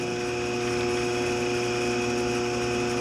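ShopSmith 10ER woodworking machine running slowly on a slow speed kit at around 250 RPM: a steady mechanical hum with a whining motor tone, constant and close, no pauses.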